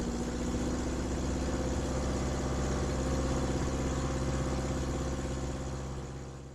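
A Falco F8L light aircraft engine runs steadily through its run-up power check, a loud, continuous droning roar close by that holds level and eases off slightly at the end.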